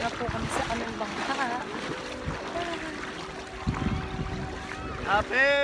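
A boat motoring across open water while island hopping off Calatagan, Batangas, a steady engine drone with wind and splashing, voices faintly in the background.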